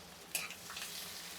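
Green chilies, ginger pieces and cashews drop into hot oil in a pan, giving a sharp hiss, then a steady soft sizzle and frying crackle.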